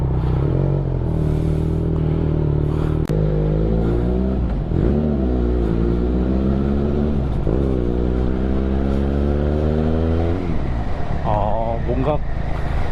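Benelli 502C motorcycle pulling away, its engine note climbing through several rising revs with gear changes, loud and close under continuous talk from the rider.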